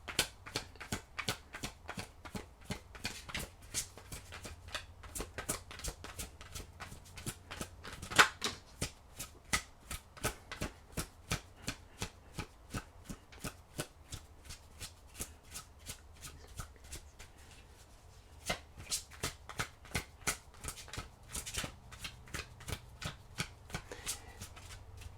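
Tarot cards riffle and shuffle softly and close, in rapid repeated clicks that continue for most of the span with a short pause.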